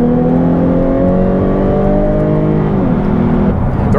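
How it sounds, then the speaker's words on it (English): A loud 2014 Jaguar F-Type 3.0 V6 S engine holds a high, steady rev, then the pitch drops and shifts, droning continuously up close. "The engine."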